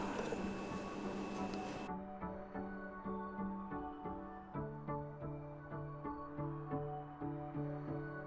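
A sewing machine stitches pieced quilt blocks for a sampler quilt, its needle ticking in a steady quick rhythm, faint and close in a quiet room after a short burst of louder noise at the start.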